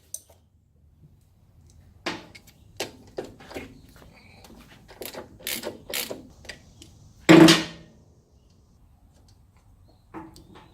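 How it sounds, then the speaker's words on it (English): Ratchet wrench working the self-locking nuts off a shock absorber on a Mercedes-Benz 560SL, heard as scattered close clicking bursts with one louder sharp clack near the middle and quiet gaps between. "Back out the locking nut, not allowing the shaft to turn."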